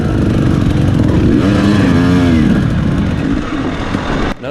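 A 2018 KTM 250 XC-W two-stroke dirt bike engine runs loud and close in a very low first gear, a rough steady drone with a brief rising-falling pitch swell before it cuts off abruptly near the end.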